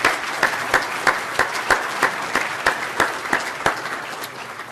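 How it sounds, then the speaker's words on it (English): Dinner audience at an annual dinner giving a warm round of applause, with dense clapping punctuated by a few louder, sharp individual claps, fairly close and steady throughout. "please join me in giving them one more round of applause"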